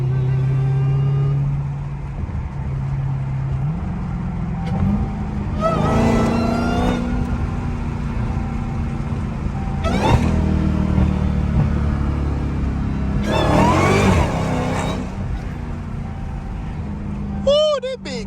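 A straight-piped Dodge SRT Hellcat revs hard while sliding sideways. Its loud engine roars in several surging bursts over a steady low exhaust rumble, and people talk nearby.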